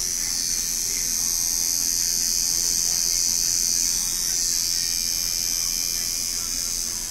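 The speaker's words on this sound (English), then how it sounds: "Where's your machine made by? This is Mickey Sharp's, handmade" Handmade Mickey Sharp tattoo machine running with a 7 round mag needle, a steady high-pitched electric buzz held constant and close throughout.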